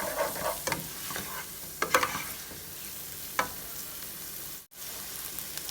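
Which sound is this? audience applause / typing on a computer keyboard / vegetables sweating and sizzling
vegetables sweating and sizzling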